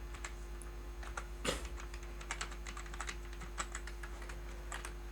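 Typing on a computer keyboard while entering Tamil font text, a steady run of quick light key clicks with one louder thump, close and clear over a low constant hum.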